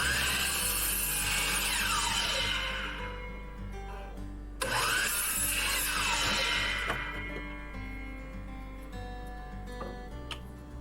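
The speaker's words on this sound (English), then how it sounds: "So here I'm cutting the edges, the sides of the boxes to size, to length." A saw cuts wooden box sides to length in two passes, each beginning with a loud, bright whine that fades off into a lower hum.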